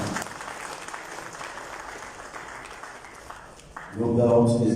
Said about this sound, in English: And we applaud the ES one more time.